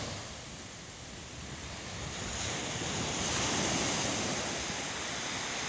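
Sea waves wash onto a beach in Palawan, a continuous hiss of surf that swells louder midway through, with some wind rumble on the microphone and no voices.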